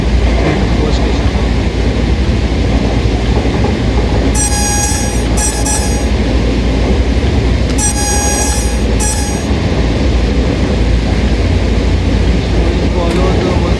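A DB Bnrdzf 463.0 train in Train Sim World 4 runs steadily from Dresden Hbf toward Großenhain, a continuous loud rumble of wheels and motor with two bursts of high ringing tones partway through, and faint talk underneath.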